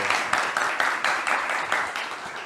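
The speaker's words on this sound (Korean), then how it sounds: "임흥순 교수님을 큰 박수로 맞이해 주시면 감사하겠습니다" A lecture audience claps to welcome a professor. The applause is modest and moderately close, with distinct individual claps in an uneven rhythm.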